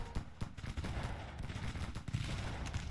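Distant gunfire from a Grand Tactician battle in the 1864 Confederate campaign, with scattered musketry pops and irregular volleys crackling over a low battlefield rumble at moderate volume.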